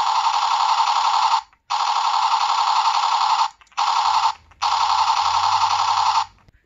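Dry firing of a toy missile launcher's propulsion mechanism in a backyard: a loud, steady, harsh buzzing blast in four long bursts with short gaps, close and alone.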